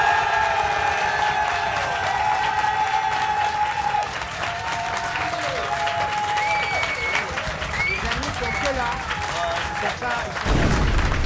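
A steady wash of audience applause and crowd noise fills the clip, with tonal sounds and voices layered over it, ending with a sudden thump.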